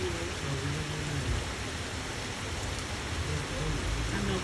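Steady rain falls outside, a dense, even hiss of drops on surfaces that runs without pause at moderate loudness.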